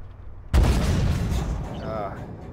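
A tank cannon fires at a Merkava in the Armored Warfare video game: one sudden loud blast with a long rumbling tail, followed by faint game effects and no talk over it.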